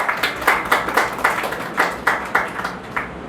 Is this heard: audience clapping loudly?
yes